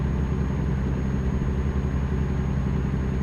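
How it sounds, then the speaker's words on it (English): A truck engine in American Truck Simulator rumbles steadily with a deep, even drone and a faint high whine, loud and close with no talking. "This truck does sound interesting."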